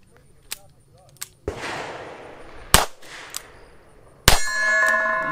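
A Taurus Defender 856 revolver fires at about seven yards, with several sharp, loud outdoor shots spaced irregularly, each ending in a ringing metallic clang of steel targets being hit.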